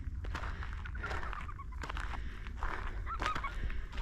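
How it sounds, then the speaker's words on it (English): Several geese honk and call intermittently at moderate distance by Siblyback Lake in Cornwall, their cries overlapping against a soft outdoor background. "All the geese. Quite a few geese there."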